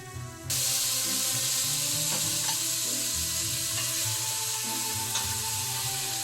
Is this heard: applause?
no